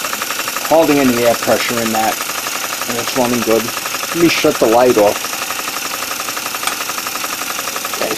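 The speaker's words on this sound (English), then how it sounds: "You got the little engine running." A small model steam engine driving a dynamo, running on air pressure, gives off a steady, rapid mechanical chatter and hum close by, while someone talks briefly over it.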